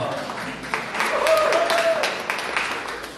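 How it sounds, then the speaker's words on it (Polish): Audience applause at a Valentine's concert in a town cultural centre, a moderate wash of crowd clapping that swells in the middle, with some voices and a faint tone mixed in. "Wielkie brawa"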